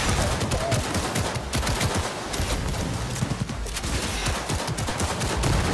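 Dense, rapid gunfire in the video game Cyberpunk 2077 crackles without pause, bursts overlapping into a continuous barrage that stays loud throughout, with no talking.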